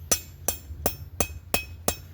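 Light hammer taps strike cold rebar being forged into a throwing knife, six sharp metallic clinks spaced evenly about a third of a second apart, close and moderately loud.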